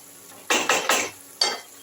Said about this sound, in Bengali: একবার ঢাকা খুলে একটু ভালো করে ওপর নিচ করে দিচ্ছি